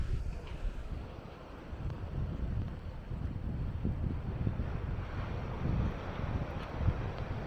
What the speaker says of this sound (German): Nun haben wir ein bisschen Gegenwind.